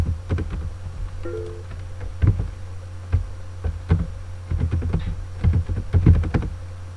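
Login and email are typed on a computer keyboard. Close, uneven bursts of key clicks run throughout, with short pauses, over a low steady hum.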